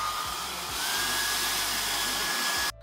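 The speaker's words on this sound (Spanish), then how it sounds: "Que ya tenemos el gabinete todo húmedo y una secadora" A hair dryer blows steadily at close range, drying a damp arcade cabinet. Its constant broadband whoosh and whine hold for nearly three seconds, then cut off abruptly at the end.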